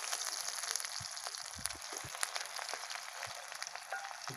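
Red chilli and onion sizzle and fry in hot oil for a village-style fish curry tempering, a steady close crackling hiss with scattered pops and spits, no talking.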